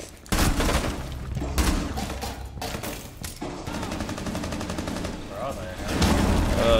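Rapid gunfire bursts from the video game Rainbow Six Siege, loud and repeated across the clip, with thuds and impacts mixed in during a ranked match.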